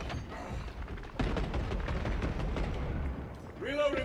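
Gunfire and blasts in the Warhammer 40k Space Marine II video game, a dense rumble of heavy shots and explosions with game voices and effects mixed over it.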